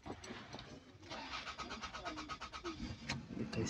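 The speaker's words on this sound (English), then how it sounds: "Start the car." A 2006–2012 Toyota Camry with a newly replaced fuel pump cranks and starts, giving a rapid pulsing starter and engine churn close by that settles into a running engine.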